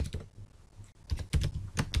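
Computer keyboard typed in quick irregular bursts while code is written, with close, crisp key clicks separated by short pauses and no voices.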